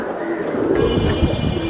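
Pigeons coo in a continuous low, dense murmur, fairly loud and close, with a faint steady hum underneath.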